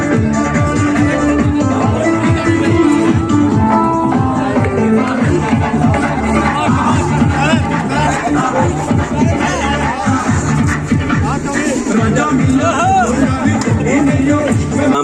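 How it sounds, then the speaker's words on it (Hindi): Dense crowd hubbub with layered chatter and shuffling fills a gathering for a Republic Day dance performance at Lucknow University's engineering faculty, with music running beneath the steady, loud babble throughout. "अभी हमारी भीड़ भी जुटनी शुरू हो गई है सबके डांस के लिए"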